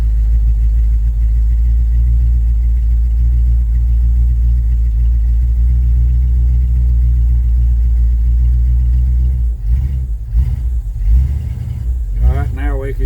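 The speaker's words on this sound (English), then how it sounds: "now the engine is smoothing out." An old engine, cold-started without a choke, idles with a steady low rumble close by, then a few uneven sputters and a voice near the end.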